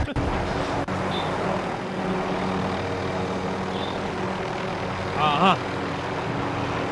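Helicopter in the video game Warzone, a continuous rotor and engine drone throughout, with brief game effects and faint chatter over it.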